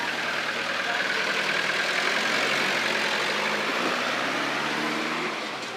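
A small Russian Lada diesel fitted in a 1950s Oldsmobile idles in Cuba, a dense, steady clattering engine noise heard up close without speech.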